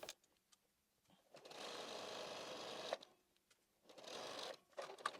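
Sewing machine stitching fabric for a yarn cozy, two quiet bursts of steady whirring separated by short pauses, with faint clicks between them.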